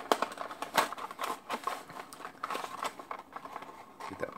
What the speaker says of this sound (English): look at that lovely sound of plastic and paper as you rip it open